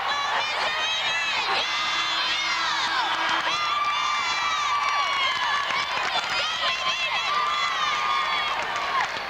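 Cheerleaders shout and whoop over a loud, dense basketball crowd at a state championship game between Jefferson City and Poplar Bluff, voices and cheering blending into a continuous roar throughout.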